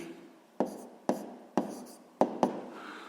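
A pen writes an answer on paper at a desk in a steady scratching rhythm, with about five sharp taps where strokes start. It is close and fairly quiet, and nobody speaks.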